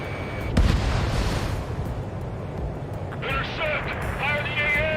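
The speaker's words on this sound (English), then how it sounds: "Missile away." A missile launches in the combat flight game Ace Combat 7, with a loud booming burst followed by rumbling explosions, while radio voices speak over the action.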